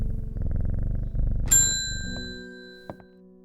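A cat purrs in the video game Strange Horticulture: a low, steady rumbling purr for about a second and a half. Bright chime-like dings then ring out and fade, and no one speaks.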